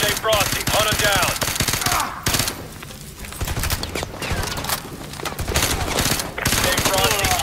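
Rapid automatic gunfire in Call of Duty: Modern Warfare 2 Remastered, loud dense bursts of shots nearly throughout with brief lulls, mixed with in-game voices calling out.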